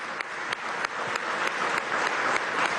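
Audience applause welcoming a Turkish business delegation at a Turkish-Venezuelan business forum in the Teresa Carreño theatre, a steady, fairly distant wash of clapping with a few sharper claps standing out, no voices.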